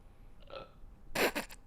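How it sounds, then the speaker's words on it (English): A person lets out a wet burp right into the microphone, preceded by a brief softer throat sound and then a loud, close, gurgling burst lasting about half a second. "that was a really wet burp"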